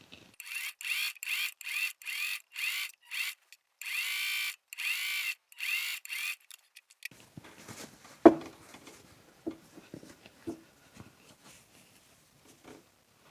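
A sewing machine runs in a series of quick bursts stitching the outside edge of flat cap brim pieces, each run a steady whirring buzz broken by short pauses, followed by quieter fabric handling and a sharp click.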